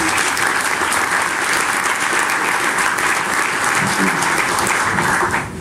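A conference audience at an app developer event claps to welcome a speaker, dense sustained applause from a full room, steady and loud throughout before easing off at the very end.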